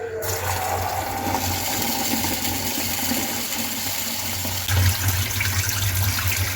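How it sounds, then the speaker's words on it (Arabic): Tap water running steadily while rice is washed for a chicken and eggplant maqluba, a continuous hiss and splash with a brief louder surge near the end, no talk. "يلا بينا نغسل الرز"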